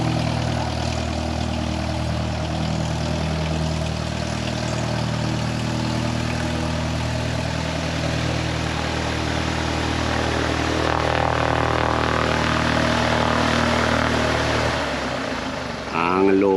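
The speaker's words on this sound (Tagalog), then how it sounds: "So, ayan na yung aeroplano na ipapakita ko sa inyo." An Air Juan propeller airplane at a small provincial airport runs a steady, loud, low engine drone throughout, swelling slightly near the end, with no other sounds standing out.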